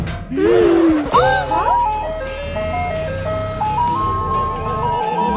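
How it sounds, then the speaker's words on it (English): Ice cream truck jingle plays a bright, steady tinkling melody of sustained electronic tones for several seconds, near and loud, heard after a brief gasp-like voice at the start. "That's the ice cream truck."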